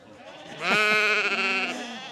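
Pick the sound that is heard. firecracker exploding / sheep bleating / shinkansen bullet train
sheep bleating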